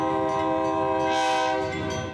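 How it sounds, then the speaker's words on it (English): A freight train passes through Lac-Mégantic, its horn sounding loud and close in one sustained blast over the rumble of the cars. "Trains still running through the heart of Lac-Mégantic."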